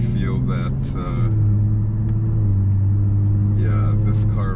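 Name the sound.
Kia Stinger GT all-wheel drive car driving, interior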